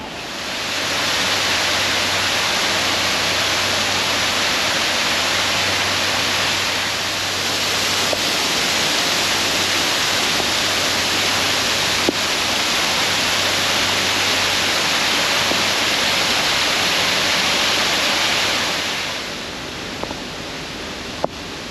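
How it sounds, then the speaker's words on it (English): An artificial waterfall in a large Hong Kong park near a pond, a loud continuous roar of falling water that stays steady for the whole stretch before easing slightly near the end. "There's even a pond here and also an artificial waterfall in the background"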